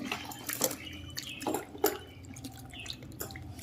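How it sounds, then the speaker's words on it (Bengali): Goat meat is rinsed in fresh water, giving close splashes, sloshing and dripping in a few irregular bursts, with no talking. "জলটা দিয়ে এবার পরিষ্কার করে নেবো।"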